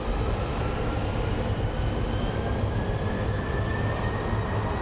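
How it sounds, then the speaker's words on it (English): Southwest airliner jet engines at full power for takeoff at Phoenix Sky Harbor airport: a steady, loud broadband roar that holds without break, with no talk over it. "another Southwest is fully powered on right behind it"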